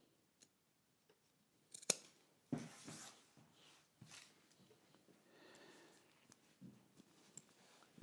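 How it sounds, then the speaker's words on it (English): Fabric scissors snip off the top end of a zipper on a sewn track suit jacket, several sharp crisp cuts and metallic clicks, close and isolated against a quiet room with faint rustling. "I'm going to trim off this zipper here at the top."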